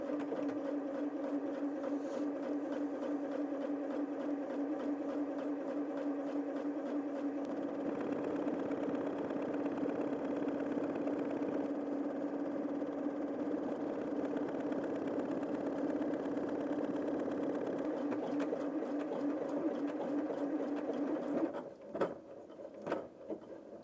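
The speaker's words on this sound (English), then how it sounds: "Always sew it about mid-speed on a buttonhole, it's much neater." A Janome M50 QDC sewing machine stitches a buttonhole at mid speed, a steady even whirring hum that runs alone for over twenty seconds before a few clicks as it stops.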